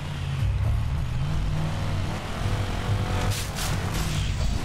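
A car engine revs and roars in short surges in the video game Just Cause 2, up close and loud, with music playing underneath.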